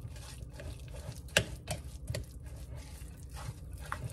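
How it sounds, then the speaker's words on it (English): Chickpea tuna being stirred together with olive oil mayonnaise in a bowl: faint, irregular soft clicks and wet squishing taps from the utensil, close and quiet. "And we're just gonna mix it up"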